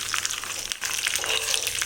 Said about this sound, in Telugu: మొత్తం పోపు అంతా ఇలా వేగిపోయిందండి